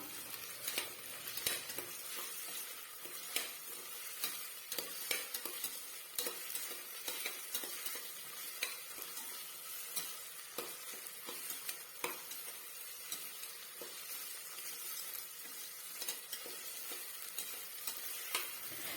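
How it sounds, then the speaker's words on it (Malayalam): Potato, carrot and green peas sizzle in a pan as they are sautéed for vegetable biryani, with a steady frying hiss broken by repeated spoon scrapes and clinks throughout. "ഇനി ഇതെല്ലാം കൂടി ഒന്ന് വഴറ്റിയെടുക്കാം"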